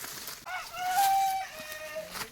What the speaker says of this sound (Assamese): এয়া জংঘলী মুৰ্গী মাত দিছে।